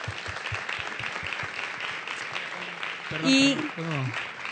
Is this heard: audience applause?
yes